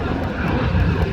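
A Douglas DC-3 (R4D) piston propeller aircraft flying at an air display at the Midlands Air Festival, its engine drone loud, steady and close throughout with no pause.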